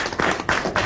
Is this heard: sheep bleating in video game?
no